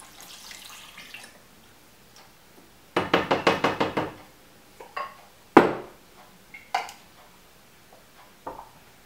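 Water for an amazake puree is poured and splashes into a kitchen container in two short bursts, separated by light knocks and clatters of dishes, with no talk.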